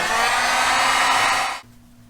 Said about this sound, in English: And now we just have our noisy heat gun go.